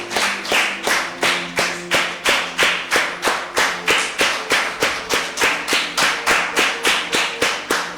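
A church congregation claps in unison to acclaim the Lord, a steady, brisk rhythm of sharp claps at about three per second, loud and close, with no voices over it.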